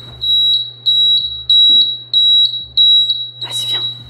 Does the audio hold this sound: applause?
no